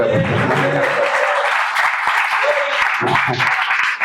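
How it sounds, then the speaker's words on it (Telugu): A church congregation claps together in a sustained burst of applause that fills the room, with voices mixed in under the clapping throughout. "చప్పట్లు కొట్టి"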